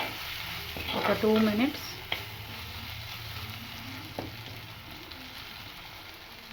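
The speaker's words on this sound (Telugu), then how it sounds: "జీరా పౌడర్, ధనియాల పొడి అన్నీ వేసుకొని బాగా మిక్స్ చేసుకోవాలి" Cumin and coriander powder masala sizzles in a pan for an Andhra-style vanjaram fish and raw mango curry, with stirring scrapes early on. A voice speaks briefly over the steady frying hiss.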